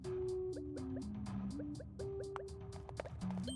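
Soft repeated bubbly ticks from Kirby in Kirby and the Forgotten Land, a steady dripping rhythm like a running water meter, faint and sitting over stepped background music tones.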